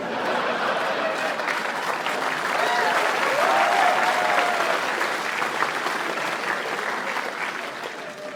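A comedy club audience breaks into sustained applause, a dense, even wash of clapping with scattered chuckles that swells slightly midway and holds steady for several seconds, close and loud, with no talk over it.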